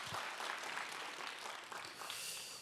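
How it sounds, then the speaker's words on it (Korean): A church congregation at a Friday prayer meeting applauds, a dense, steady round of clapping that fills the room without a break. "박수를 한 번 더 격려하도록 하겠습니다"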